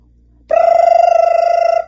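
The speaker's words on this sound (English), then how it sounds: "Went the alarm clock." An alarm clock rings in a read-aloud children's bedtime story, a sudden loud, steady metallic bell trill that starts after a brief pause, holds for over a second, then stops abruptly.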